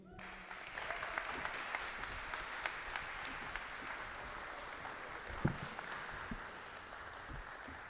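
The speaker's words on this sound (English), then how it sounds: "please join me in giving a warm round of applause to Principal Dave" Audience at a 2023 Uchenna graduation applauding Principal Dave: steady, dense clapping from a large crowd, sustained evenly throughout with no speech over it.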